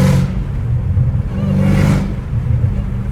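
Catless Dodge Challenger Hellcat Redeye engine pulling hard in fourth gear, a loud, continuous deep exhaust roar that swells and eases over a few seconds, heard close from inside the car.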